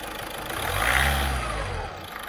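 A turbocharged car engine revs up hard to a loud roar, holds briefly, then eases back down, heard close with no talking.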